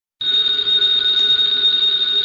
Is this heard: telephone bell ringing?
yes